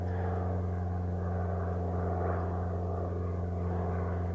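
Propeller drone of a turboprop military trainer aircraft flying over a coastal trail near Pensacola, Florida, a continuous low humming tone holding steady and moderately loud without speech.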